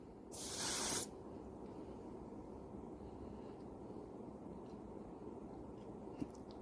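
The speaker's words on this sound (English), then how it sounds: "This is just some body spray." A single short hissing burst of body spray lasts under a second, then gives way to the quiet, steady hum of a Winix 5500-2 HEPA air purifier.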